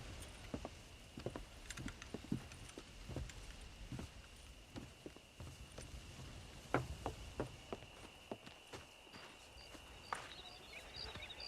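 Horse hooves clip-clop across the ground in the Red Dead Redemption video game, irregular soft thuds scattered at moderate distance over a steady background hum, with no voices.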